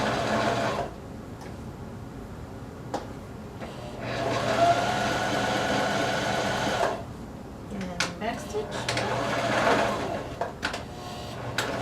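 A sewing machine stitches the inside leg seam of ruffle leggings, running in bursts of steady whirring with pauses and fabric handling between, close and moderately loud.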